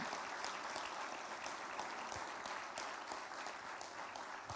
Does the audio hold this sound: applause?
yes